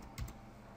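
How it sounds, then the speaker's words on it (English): A couple of quick, soft keystrokes on a computer keyboard, close and faint against a quiet background with no talking. "We type in the name to save it here. Here we will type in report."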